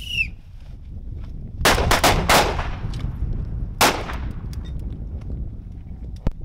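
Pistol shots fired from the hip after a draw: a rapid cluster of loud, sharp cracks in close pairs, then one more shot a couple of seconds later, with faint rustling between them.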